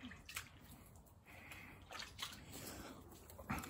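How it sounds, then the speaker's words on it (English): Water runs from a tap during hand rinsing after an outdoor shave, a steady wash with occasional louder splashes and sloshes, close and moderately quiet. "Just a moment, I'm gonna rinse my hands."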